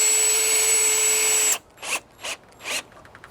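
A cordless power drill runs steadily for about a second and a half, driving a screw into a vinyl fence, then stops and leaves a few short rustling bursts.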